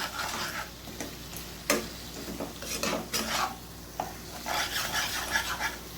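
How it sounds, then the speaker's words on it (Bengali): Ground spices sautéed with chicken for korma in a pan, quiet soft sizzling under repeated spoon scrapes and stirring strokes in an uneven rhythm, close by with no talking. "এবার মশলাগুলো আমি ভালোভাবে কষিয়ে নিচ্ছি"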